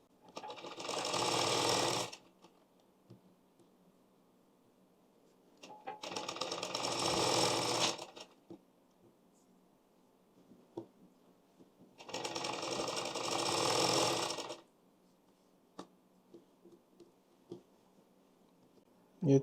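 Sewing machine stitching diagonally joined piping strips for a blouse, running in three separate bursts of about two seconds each with quiet pauses between, close and clear.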